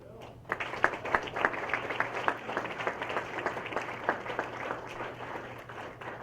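Conference audience at a software correctness talk applauding the speakers, a modest round of distinct claps, fairly faint and irregular, over a low steady hum.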